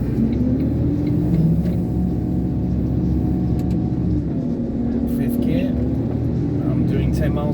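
Iveco concrete mixer truck engine pulling through successive gears on narrow roads, a continuous heavy diesel rumble with rising and falling engine tones, close and loud.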